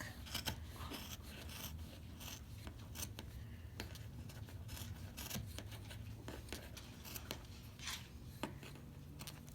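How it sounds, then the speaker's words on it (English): Scissors trim a fabric overhang on a holiday mug rug, a run of soft, close snipping and rustling cuts at a quiet level with no voices. "I have a little bit of an overhang here, so I'm just going to cut it off real quick."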